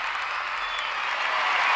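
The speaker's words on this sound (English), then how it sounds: "these fucking people and this long ass applause" Long, steady audience applause fills the space, a dense wash of many hands clapping at an even loudness with no voices over it.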